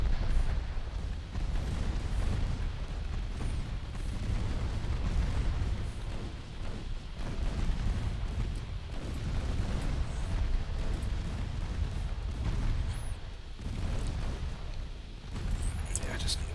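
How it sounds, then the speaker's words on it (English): Warship secondary guns firing in Ultimate Admiral Dreadnoughts, a steady barrage of deep booming reports and rumbling blasts that roll on continuously, with a voice talking over the gunfire. "Keep the secondary guns on him"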